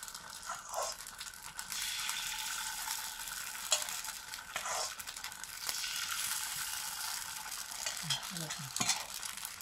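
Rice batter for chitoi pitha being whisked by hand in a bowl, a soft continuous swishing and stirring with occasional brief clinks, steady and close, with no talking.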